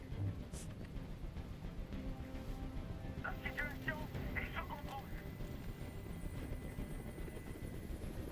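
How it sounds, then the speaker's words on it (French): Low, steady helicopter rotor thump from the video game Detroit: Become Human drones throughout, with voices speaking over it in short exchanges. "Fais dégager cet hélicoptère, maintenant."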